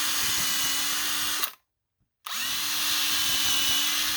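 A power drill boring staggered pilot holes into a 2x4 for a KYDEX holster mold press, a loud close motor whine that runs, stops for about a second, then starts again, with no talking.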